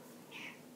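A cat gives a single short meow near the middle, close and clear, over a faint indoor background hum with no talking.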